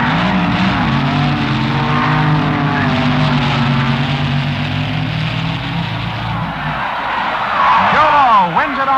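Dodge-powered and Chevy-powered rail dragsters making a drag race run at a 1967 drag meet, with loud, continuous engine roar filling the air and pitch sweeps near the end as the cars pass.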